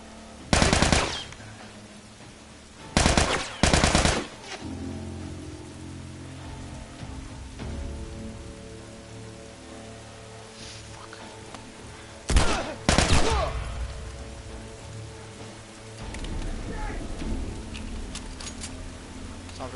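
Gunfire in The Last of Us Remastered, with several loud, close bursts of rapid shots in short clusters separated by quieter stretches of game ambience and low background sound.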